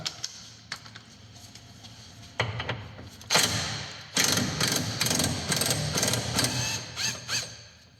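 An impact gun removes the engine mount bolts on a Fiat Punto, firing several loud, close rattling bursts in the second half after quieter workshop clatter and a few thumps, with no talking.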